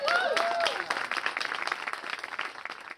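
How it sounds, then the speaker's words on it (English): Audience applause for the organizers at a live spring show, many hands clapping in a dense steady patter that slowly thins toward the end, with a few faint voices and a brief whoop near the start. "Can we give a round of applause to the organizers of the event?"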